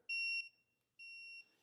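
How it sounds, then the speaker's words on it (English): A digital voltmeter set to continuity mode gives two clear electronic beeps, each about a third of a second long, as its probes touch during a Ford paddle shifter repair, with near silence between them. "I've got my voltmeter set to basically beep at me when there's connectivity."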